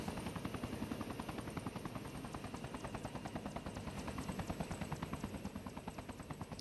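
A video game military helicopter in flight, its rotor thumping in a steady, fast rhythm under a constant engine whine, close and continuous throughout.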